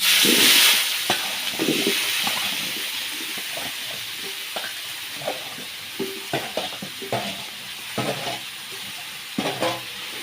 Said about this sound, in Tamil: நல்லா எண்ணெயிலே நல்லா வதக்கி எடுத்துக்கலாம்